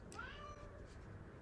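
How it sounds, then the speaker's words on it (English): A single drawn-out cat meow, fairly quiet and close, against a low background hum. "That's my cat. She freaking out."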